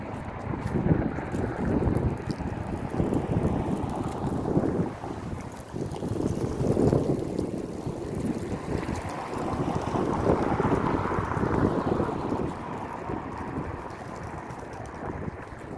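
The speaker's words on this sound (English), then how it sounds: "windy as hell out here" Strong wind gusting outdoors at a camp, a loud, sustained rumble and buffeting against the microphone that rises and falls throughout.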